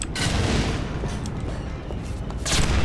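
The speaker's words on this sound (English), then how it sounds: "I hope we don't have that explosion sound for the rest of the map." Explosion effects from the video game Portal 2, a continuous roar of booming, crackling blasts with louder bursts near the start and end, loud and dense with no talk over it.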